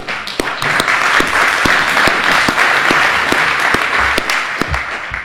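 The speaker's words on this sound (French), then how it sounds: "vous pouvez l'applaudir." Applause fills a conference hall at an open source industry forum, loud sustained clapping from a sizable audience with crisp individual claps standing out, tapering slightly at the end.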